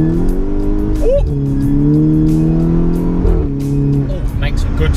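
MK6 Golf GTI remapped to 281 brake horsepower with a Milltek exhaust, accelerating hard in second gear: a loud, rising engine note with a brief shift dip, close by, while people talk over it.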